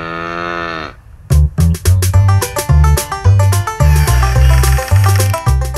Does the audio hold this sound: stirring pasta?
no